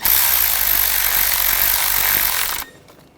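A bolt on the valve cover of a 2013-2019 Ford Escape 2.0L L4 engine driven down by a power tool in one loud, continuous whirring burst that stops abruptly near the end.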